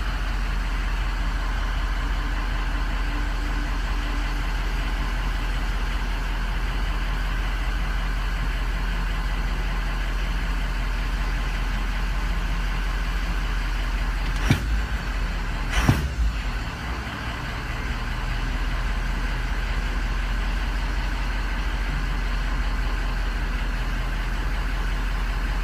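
A 2003 truck engine idles with an unreliable idle, a steady low rumble held throughout, with two brief sharp knocks in the middle and no talking.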